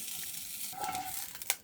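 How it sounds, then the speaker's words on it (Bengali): An egg fries in a pan with a soft, faint sizzle and light crackle, plus a brief scrape or clink near the end. "ডিম ভাজা"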